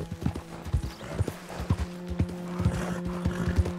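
Horse hooves in Red Dead Redemption 2 gameplay, a quick rhythmic clip-clop of galloping beats, close and clear over a low background hum.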